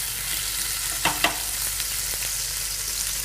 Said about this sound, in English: I'm heating up the ginger garlic paste